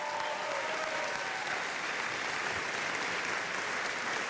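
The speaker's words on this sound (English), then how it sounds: "Now, polite applause" Polite applause from the crowd at a John Kasich campaign event in Greece, New York, a steady, dense patter of many hands clapping at moderate loudness with no pause.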